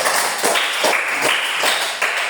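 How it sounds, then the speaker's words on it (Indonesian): A class claps for a student named Arvito during a gym lesson on mat exercises, the applause a brisk patter of hand claps spread across the short moment, fairly close and lively. "Tepuk tangan untuk Arvito."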